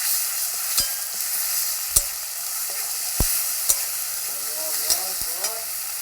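Ground ginger and cumin sizzle steadily in a hot pan, a loud continuous frying hiss with a few sharp clinks of a spoon stirring through it.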